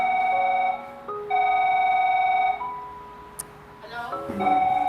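Telephone ringing in bursts, two long electronic rings with a short gap, then a fainter pause and the ring starting again near the end, fairly close and loud with no speech.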